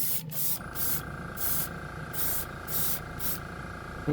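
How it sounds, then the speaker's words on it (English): An old 2D air compressor kicks in with a steady tonal hum, while short bursts of hissing airbrush spray come and go over it during a Bronco model kit job. "the old 2D air compressor just kicked in"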